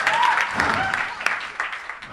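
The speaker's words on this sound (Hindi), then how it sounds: "जोरदार ताली बजाकर प्रभु धन्यवाद दीजिए" A church congregation at a worship service claps loudly in thanks, a dense wash of applause mixed with talk and a few sustained tones.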